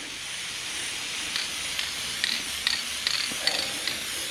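Steady hiss of a spray can or spray gun coating a race car black inside an enclosed garage, with faint clicks and short bursts rising through a constant close spray.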